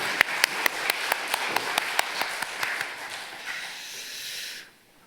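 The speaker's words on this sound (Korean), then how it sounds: "하나님께 영광 박수 올려드리겠습니다." Sharp rhythmic claps ring out in a church sanctuary during a Sunday worship service, about a dozen evenly spaced beats over a reverberant hiss, slowing and fading before stopping abruptly.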